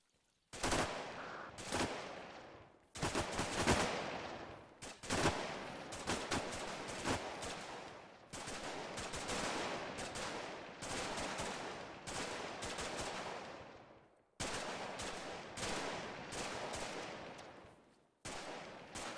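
Gunfire in a military video game comes as dense, loud bursts of automatic rifle and machine-gun fire, rapid cracks running in long strings with brief pauses between volleys.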